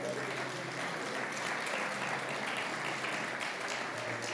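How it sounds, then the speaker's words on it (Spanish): A Spanish-speaking church congregation gives a steady round of applause during a sermon, an even, continuous patter of many hands with voices mingled underneath, moderately loud and unbroken. "Dele un aplauso al Señor."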